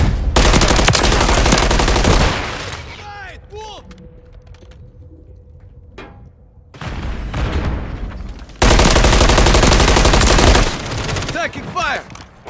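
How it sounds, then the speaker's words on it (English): Heavy automatic gunfire from Call of Duty Modern Warfare 3 multiplayer, loud sustained bursts at the start and end with a quieter stretch of sparse shots and game effects between, and voice callouts heard at points. "Taking fire!"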